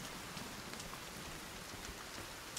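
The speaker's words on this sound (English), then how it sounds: "And it's raining." Steady rain falls in the Sons of the Forest survival game, a soft, even hiss of drops on surfaces that runs the whole time with no talking.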